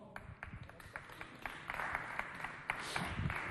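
An audience at a community event in Chad claps, starting as scattered individual claps that build into fuller, denser applause, moderately loud and somewhat distant.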